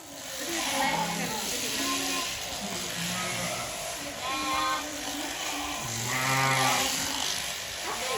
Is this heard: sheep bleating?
yes